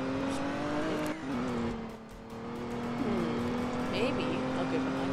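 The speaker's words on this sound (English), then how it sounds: "I'm gonna spawn in another car, I think. The Corvette." Corvette driven in the Roblox game Liberty County, a steady engine drone with shifting pitch as it accelerates and turns, with brief tire-squeal-like bursts, continuous and fairly close throughout.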